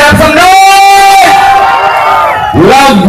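A live audience shouts, whoops and cheers loudly all at once on cue from a presenter, a sustained mass of voices swelling and fading, then rising again near the end.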